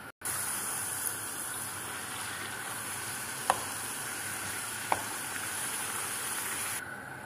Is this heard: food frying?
yes